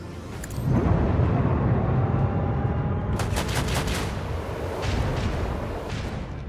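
Weapons fire and explosions in a space battle in the Warhammer 40K Rogue Trader video game form a dense, continuous rumble of booming blasts with sharper crackling bursts partway through, loud and without speech.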